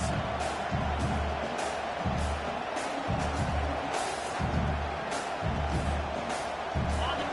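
Crowd roar in a football video game as the home fans rally behind the defense on a late third down, a continuous loud cheer with rhythmic pulsing swells and thumps beneath it.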